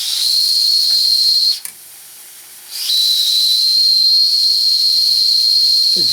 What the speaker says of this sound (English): Now let's see if you can hear the whistle.